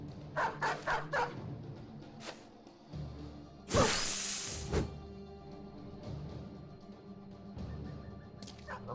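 War dogs in the video game Battle Brothers: a quick run of four sharp barks, then a loud whooshing attack strike and further thuds and snarls of combat, close and clear.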